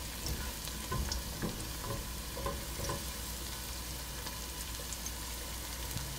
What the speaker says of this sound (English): Plenty of oil to cover these garlic babies.